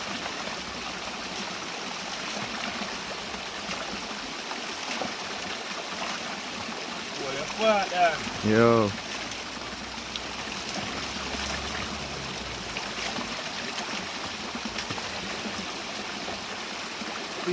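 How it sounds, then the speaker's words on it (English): Spring water flowing from rock in Jamaica trickles steadily nearby, a constant babbling stream sound, with a brief spoken word from a man midway. "It's a spring water, you know. That come from a rock around and stuff."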